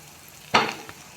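Chopped coriander hits a hot pan of garlic and sizzles sharply for a moment, a single loud burst of frying that quickly fades to a faint hiss.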